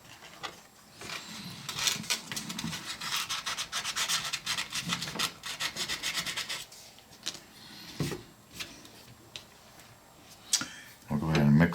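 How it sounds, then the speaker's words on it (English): Fine 400-grit sandpaper scuffs the trim of a 1998 Lincoln Mark VII car seat, a close, steady scratchy rubbing in quick back-and-forth strokes that pauses briefly, then resumes before a louder handling noise at the end. "This is just 400 grit sandpaper. Just need enough to scuff it up a little bit."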